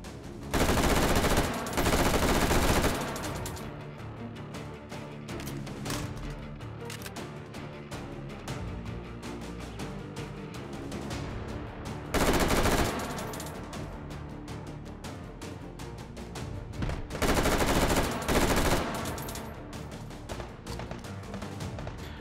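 Video game gunfire in Hot Dogs, Horseshoes & Hand Grenades on the HTC Vive, after a smoke grenade: loud bursts of rapid automatic fire come in clusters near the start, middle and later on, with sparser scattered shots between them.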